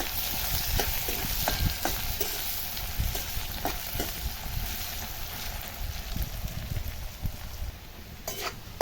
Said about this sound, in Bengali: পেঁয়াজটা এবার একটু ভেজে নেবো।